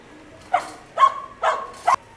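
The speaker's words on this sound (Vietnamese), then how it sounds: "Hôm nay trại mình sẽ gửi đến toàn thể anh em một chú cún cái gần 5 tháng tuổi, hậu duệ Agus nhập Mexico" A female Belgian Malinois puppy, nearly five months old, barks four times in a sharp, evenly spaced series, loud and close against a quiet background.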